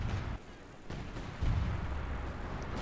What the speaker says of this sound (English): Artillery coming in